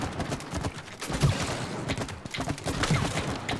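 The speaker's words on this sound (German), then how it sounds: "Ich kann dreimal kurz hintereinander schießen" Rapid gunfire from the It Takes Two video game, a dense stream of sharp, snappy shots in quick bursts, loud and close, continuing throughout without speech.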